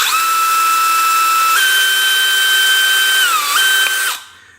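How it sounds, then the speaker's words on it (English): A cordless drill whines steadily at close range, drilling holes for a pocket clip in a Victorinox 111mm pocket knife, its pitch stepping up once and dipping briefly before the motor winds down and stops. "We're going to drill out the holes."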